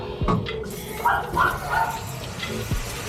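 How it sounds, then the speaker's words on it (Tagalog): A hose runs water over the engine of a Bajaj Maxima Z motorcycle during an engine wash, giving soft, uneven splashing and trickling in short bursts, with a few bumps and knocks nearby. "Para hindi masyadong malakas ang tubig."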